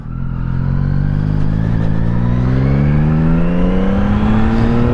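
A Yamaha XSR900 motorcycle on a winter highway holds a loud, close engine note whose pitch climbs steadily as it revs and accelerates, with rushing wind noise throughout and no voices.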